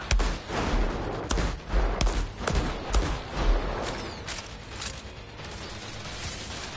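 Rapid gunfire in the shooter game Outriders, with dense overlapping shots and mechanical clatter that keep a steady, busy rhythm before thinning out toward the end.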